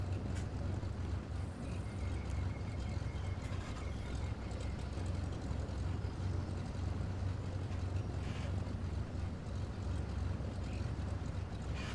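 Aircraft engines drone in Microsoft Flight Simulator 2024, a steady low rumbling roar with airy wind noise that holds constant throughout, with no talking.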